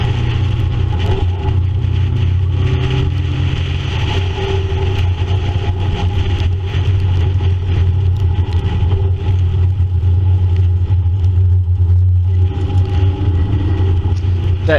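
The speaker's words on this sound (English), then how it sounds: "That red convertible in front is one of the really fast cars." Racing cars drive at the Sandown circuit, including a fast red convertible. Their engines drone loud, steady and low throughout, with a constant rumbling hum and no clear pass-bys.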